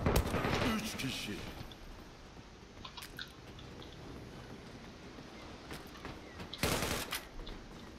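Bursts of gunfire in the online shooter Zula: a dense rattle at the start, scattered shots through a busy game mix, and another sharp burst near the end.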